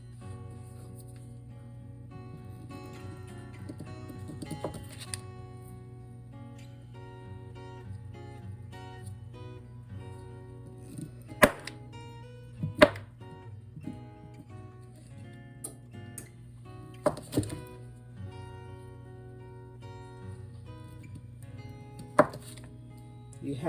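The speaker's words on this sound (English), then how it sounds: "now I'm going to slice my butter" Butter being sliced with a knife on a board, a few sparse sharp knocks of the blade spread over a quiet steady hum.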